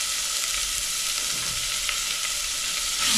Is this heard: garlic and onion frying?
yes